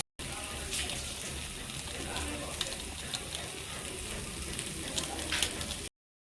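Cauliflower pieces fry in a pan with a soft continuous sizzle and faint crackles, quiet and close, with occasional light scrapes, no voices heard.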